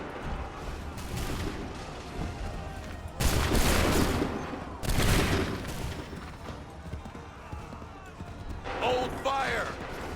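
Soldiers fire musket volleys in Assassin's Creed III, a video game: two heavy, booming bursts of massed gunfire roll out several seconds apart amid a noisy battle din, with shouted orders heard around them.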